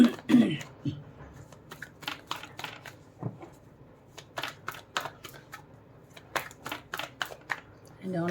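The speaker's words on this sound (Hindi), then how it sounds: "2 कार्ड और लेना चाहूँगी मैं।" Tarot cards being shuffled and handled in a series of soft, brief rustles and flicks, with quiet pauses between bursts and some speech-like sounds faintly mixed in.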